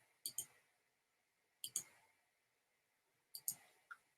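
Computer mouse clicks during a screen-sharing session, about three quick double-clicks spaced over a few seconds with a final single click, crisp and close in an otherwise quiet room.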